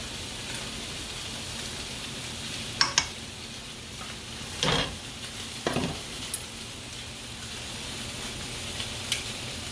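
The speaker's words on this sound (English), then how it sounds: "So I'm going to brown the sausage on both sides." Sausage browns in a pan with a constant close sizzle of frying fat, broken by a few clinks and scrapes of a utensil turning the pieces; nobody speaks.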